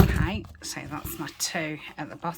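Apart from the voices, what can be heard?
No distinct noise like a dog, phone or traffic.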